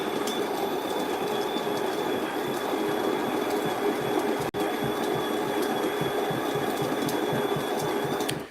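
A DeLonghi espresso machine pulls a shot of Dunkin' Donuts original blend whole-bean coffee, giving a loud, steady pump drone with mechanical rattle that holds for the whole stretch, broken only by one brief click midway.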